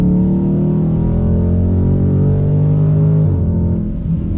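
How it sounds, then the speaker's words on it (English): 2020 Dodge Charger Scat Pack under full throttle from inside the cabin, a loud deep engine roar climbing steadily in pitch, then dropping as the ZF 8-speed automatic snaps through a quick upshift. "Fast shifts from that ZF 8-speed automatic transmission."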